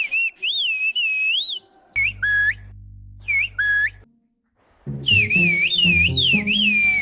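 Whistled bird language of Kuşköy village in Turkey: shrill, swooping whistled phrases come in bursts with pauses, joined near the end by a denser stretch of overlapping whistling and background sound.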